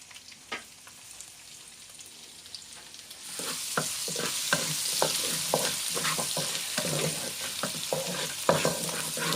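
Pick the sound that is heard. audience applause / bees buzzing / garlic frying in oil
garlic frying in oil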